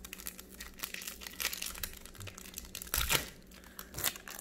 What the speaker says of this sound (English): Let's get ripping, folks.